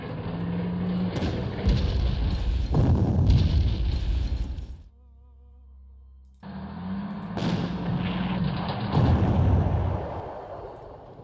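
Heavy booming artillery fire in the WWII strategy game Panzer Corps, Afrika Korps campaign, with repeated loud blasts and rumbling that break into a brief quiet gap, then resume with more deep explosions.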